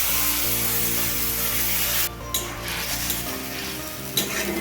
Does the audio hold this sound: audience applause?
no